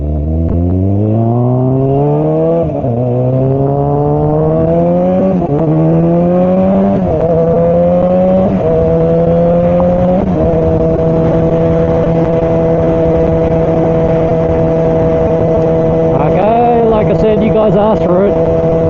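Modded Kawasaki ZX4R motorcycle engine winding up through repeated gear shifts, a rising high-revving whine stepping up then holding a steady loud drone, heard close from the rider's position with wind roar.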